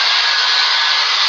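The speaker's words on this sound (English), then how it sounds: "Finally a place with a hair dryer for me." Loud, constant airy whoosh of a hair dryer running up close, unchanging throughout.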